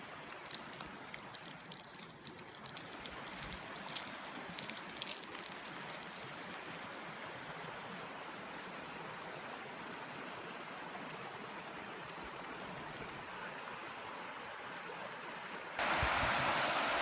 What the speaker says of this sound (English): this is the river crossing to my main woodland camp